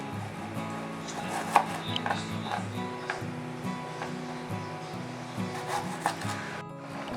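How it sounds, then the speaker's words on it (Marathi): Tomatoes are cut with a knife on a board, producing a run of soft, fairly regular chopping taps and light scrapes at close range, with no talk. "ते मी टोमॅटो घेतलेले आहेत आता आपल्याला हे असे कापून घ्यायचे आहेत"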